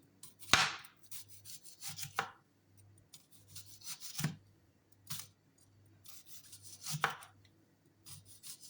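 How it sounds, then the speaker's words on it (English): A white onion being sliced on a board, with a few separate crisp cuts and rasping strokes spaced a second or more apart over faint low hum, close and quiet with no talking. "You're gonna cut the onion"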